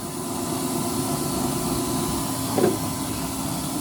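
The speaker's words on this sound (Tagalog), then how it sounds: "May electric fan, no? Malakas." Electric fan running steadily and loudly near a gas burner setup, a constant whirring hum with airy broadband noise, close by, with a brief soft knock partway through.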